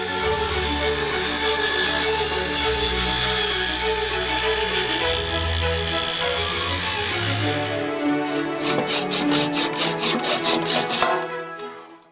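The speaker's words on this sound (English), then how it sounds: "it'll take several passes through my table saw plus a hand saw to get it down" A table saw runs steadily through scrap wood for about eight seconds, then a hand saw takes over with loud, rhythmic back-and-forth strokes before stopping, with no talking.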